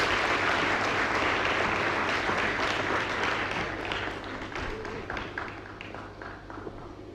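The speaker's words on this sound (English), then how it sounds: "Kindly clap for her" An audience at a pageant grand finale applauds for a former Miss President titleholder, a dense burst of clapping that runs throughout and slowly thins, over a faint steady low hum.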